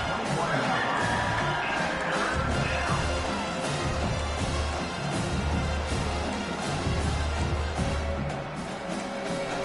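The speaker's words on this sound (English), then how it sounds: "Here comes this home crowd as the defense tries to get off the field on third down." Home crowd at a football game roaring steadily through a third-down defensive stand, a loud, dense wash of cheering and whoops with no pause, sustained for the whole stretch.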